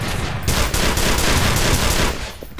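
Dense, loud enemy gunfire in the shooter E.Y.E., rapid automatic bursts of electrical bullets crackling close by in an almost unbroken barrage, easing off briefly near the end.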